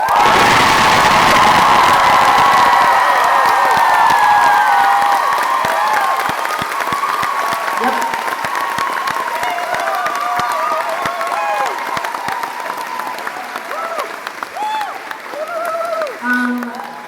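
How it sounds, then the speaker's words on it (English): Loud concert crowd at Paradiso in Amsterdam cheers, whoops and applauds for the band's drummer, dense clapping and shouts that gradually thin out while a voice speaks over the fading noise. "Give him a huge round of applause"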